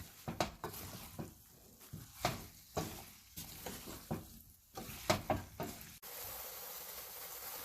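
A vegetable biryani mix is stirred in a pan after salt goes in, with repeated scraping strokes over a soft sizzle and a steady hiss near the end.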